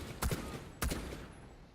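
Two sharp rifle shots in Rainbow Six Siege, a headshot fired through foliage, each a loud crack with a short echoing tail, spaced about half a second apart.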